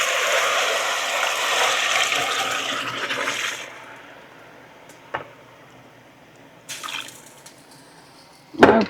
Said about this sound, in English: I'm going to add this broth